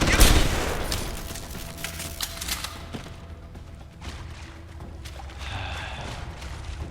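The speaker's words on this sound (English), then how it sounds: "Taking out my stun gun now." A stun gun fires in Deus Ex: Human Revolution, giving a loud crack at the start and then a run of sharp clicks and zaps. Quieter mechanical noises and a faint electronic whine follow.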